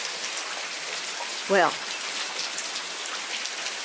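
Steady rain falls throughout in a garden setting, a broad continuous hiss, with someone briefly speaking a single word over it midway.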